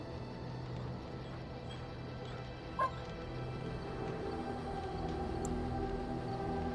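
A dog in the Dragon Age Origins video game whimpers and yips faintly over a low ambient game background, with one brief sharper sound partway through.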